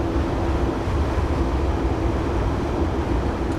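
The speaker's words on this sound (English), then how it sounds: "Now applying the brakes for our stop here," A Class 150 diesel train in Train Simulator 2015 brakes on the line from Exeter to Barnstaple, approaching the stop at Yeoford: a dense, steady rumble and roar runs throughout with no clear squeal or pauses.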